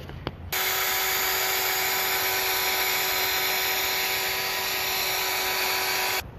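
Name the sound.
power polisher buffing car paint with rubbing compound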